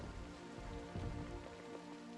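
Rain falling outside a house in the zombie survival game Project Zomboid, a soft steady patter on surfaces, faint and continuous.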